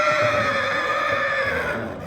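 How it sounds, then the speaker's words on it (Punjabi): A loud, sustained mare's whinny rings out up close on a horse farm, high and tremulous, fading slightly at the end. "ਇਹ ਆ ਘੋੜੀ ਆ"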